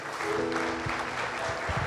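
A church congregation claps loudly and steadily, a dense burst of applause with a few voices faintly mixed in.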